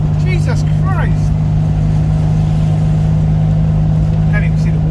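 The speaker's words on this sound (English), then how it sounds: "I am driving a 1967 Fiat 500f in third gear because it doesn't want to do fourth at the moment, across the old Severn Bridge." A 1967 Fiat 500F holds third gear while crossing the old Severn Bridge, its small engine droning loudly and steadily throughout, with brief voice-like chirps over it.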